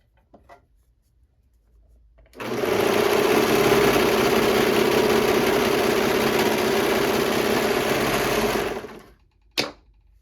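A sewing machine stitches a straight seam on a hoodie cuff, running steady and close for about seven seconds before stopping with a sharp click.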